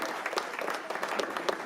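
A short burst of audience applause for jury member Katrina McCall at the Bloody Week-End 2019 jury presentation, fairly quiet, scattered clapping from a modest crowd.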